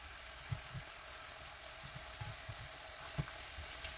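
Fried fish simmering in a ginger scallion sauce gives a faint, steady sizzle with a few soft pops and clicks, quiet and continuous without any talk.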